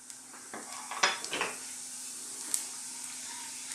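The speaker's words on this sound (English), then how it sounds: "We're just going to roast these or fry them in that oil, and they're going to infuse it." Whole garam masala spices, cardamom, cumin seeds, cloves and dried chilli, frying in hot sunflower oil with a steady soft sizzle, broken early by a few clinks and scrapes of a utensil against the pan.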